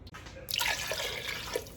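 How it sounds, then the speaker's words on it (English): Water from a tap pours into a pot of red pork pozole, a soft, faint splashing stream that begins after a short pause and runs steadily to the end. "you can fill it up with water"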